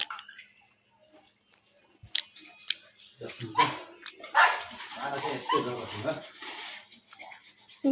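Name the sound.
dog barking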